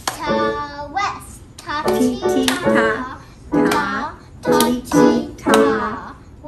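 A child claps a rhythm pattern during a beginning violin group class, sharp close handclaps in short groups with pauses, while an adult voice chants the rhythm syllables alongside.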